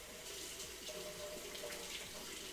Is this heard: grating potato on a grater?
no